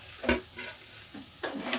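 Fried potatoes go into a hot pan of oil for a rui fish curry: a brief sizzling burst, then quieter hisses and a couple of stirring scrapes. Close and moderately loud, with no talking.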